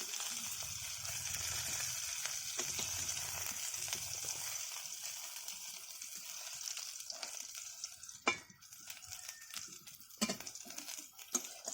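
Okra frying in oil in a kadai, a soft, steady sizzle with occasional spoon scrapes and clinks against the pan. The sound is fairly faint and close, with no talk.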